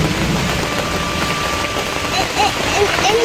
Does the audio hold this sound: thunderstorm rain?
yes